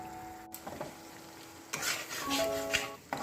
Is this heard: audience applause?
no